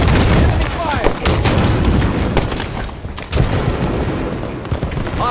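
Dense, loud Halo 5 Guardians ranked slayer combat with booming blasts and bursts of gunfire, including a grenade explosion among repeated impacts, voice chatter underneath throughout.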